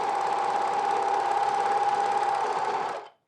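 A sewing machine runs quickly along the inside edges of pocket flaps for men's pants, giving a close, steady mechanical hum with rapid stitching chatter that stops abruptly near the end.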